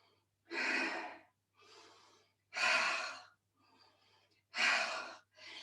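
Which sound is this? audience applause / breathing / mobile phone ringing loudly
breathing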